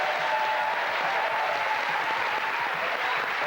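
A game show studio audience on Going For Gold applauds and cheers the runner-up, a dense, loud, continuous wash of clapping lasting the whole few seconds without a break.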